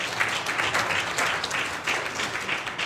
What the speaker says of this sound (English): Will you clap your hands in the Lord?